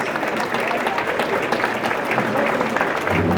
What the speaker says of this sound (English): Joe and Mickey King, ladies and gentlemen, a round of applause.